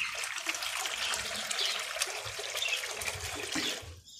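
Water poured into bowls for pet birds, a close steady splashing trickle running for several seconds and then stopping abruptly.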